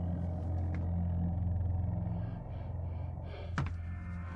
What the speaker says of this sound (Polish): Tam się dyszy.